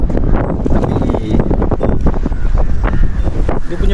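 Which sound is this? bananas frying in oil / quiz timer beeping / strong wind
strong wind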